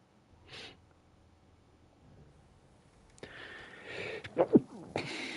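A person sneezes sharply during play of the video game Ghost of Yotei, a short loud burst following a quieter breath and some rustling, with faint game ambience underneath.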